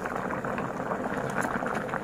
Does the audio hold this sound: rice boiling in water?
yes